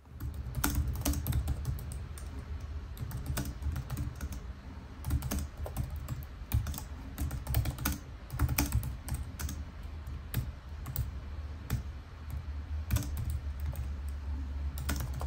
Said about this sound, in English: If you're curious how the keyboard sounds, here's a short clip.